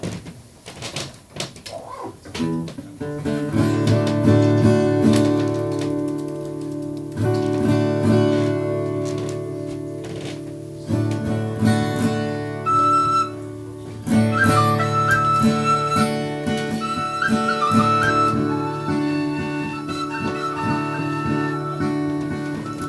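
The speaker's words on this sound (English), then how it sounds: "let me hear your tin whistle one last time" A tin whistle plays a bright, shrill melody over steady amplified backing, with brief pauses between phrases.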